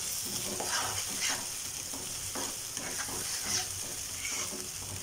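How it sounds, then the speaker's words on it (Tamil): Tomato paste stirred into a sizzling mushroom gravy in a pan, with steady frying hiss and repeated scraping strokes of the spoon close by. "இதில் நாம் எடுத்து வச்சுருக்க தக்காளி அரைச்ச பேஸ்ட்டை சேர்த்து நல்லா கிளறுங்க."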